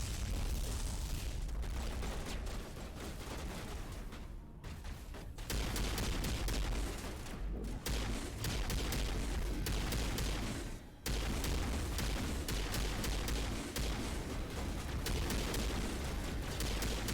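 Sustained gunfire from a Mass Effect firefight on Feros, loud, dense bursts and booms running almost nonstop, with brief gaps between volleys.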